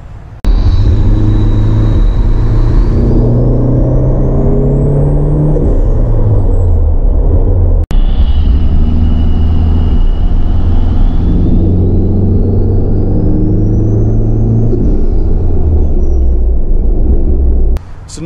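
A turbocharged Toyota drives under boost with a loud, steady engine rumble close by, climbing through two long pulls with a rising turbo whine, separated by a brief shift.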